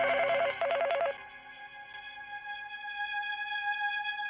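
A telephone rings in two quick, bright electronic bursts close by, then a steady tonal hum lingers afterward with no voices.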